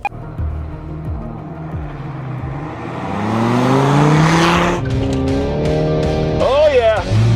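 Toyota GR Corolla 3-cylinder turbo drag racing a Dodge Viper V10, engines revving and rising in pitch through the gears, with loud acceleration and a tire squeal, while voices talk excitedly over the roar.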